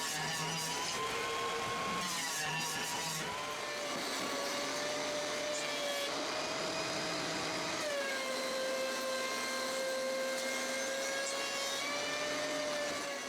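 A planer smooths dry glued-up wooden boards with a steady, loud mechanical whine and rushing roar that holds on throughout, shifting slightly in pitch as the boards feed through.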